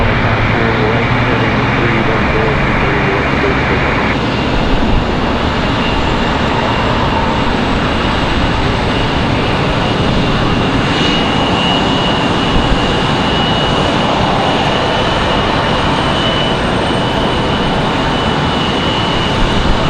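A Republic Airways jet taxis at Raleigh-Durham International Airport, producing a loud, constant engine roar and rumble that holds steady throughout without letting up.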